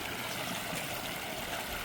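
A large volume of water gushing out of a 15-inch pipe, heard as a dense, constant roar with no pauses and no voices.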